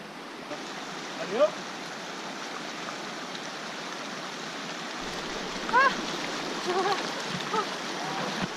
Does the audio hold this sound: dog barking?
no